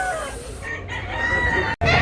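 A young rooster, a bullstag just over a year old, crows loudly up close in one drawn-out call that breaks off abruptly near the end.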